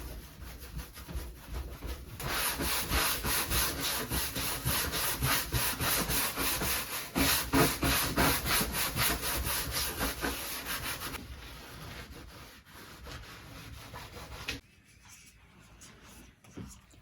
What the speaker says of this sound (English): You should start to see a nice sheen as we buff.